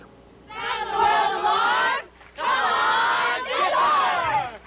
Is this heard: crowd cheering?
yes